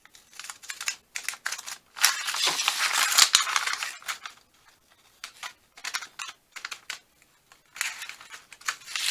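Scissors snip through paper to cut out handmade faux stamps for a junk journal, a stamp left unstitched, in short irregular bursts of close, crisp cutting with pauses between.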